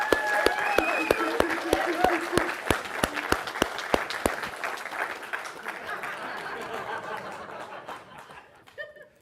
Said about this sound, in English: Can we give him a good round of applause?